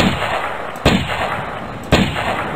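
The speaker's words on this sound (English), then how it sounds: "No one noticed the random amount of bullets that are being fired." Unlimited-ammo gun in the stickman game Shadowfeld firing continuously, a steady harsh crackling stream of shots with two louder bursts standing out, no talking.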